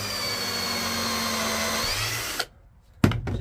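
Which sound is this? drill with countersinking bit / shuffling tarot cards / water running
drill with countersinking bit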